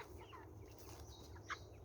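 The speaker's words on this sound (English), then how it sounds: "Here's the only chicken tractor with chickens in it." Hungry chickens in a chicken tractor on a farm cluck softly and intermittently, with a brief sharper call near the end, heard fairly close with no talking.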